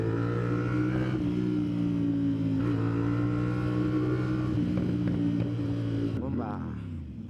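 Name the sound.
450 SR motorcycle with SC Project exhaust revving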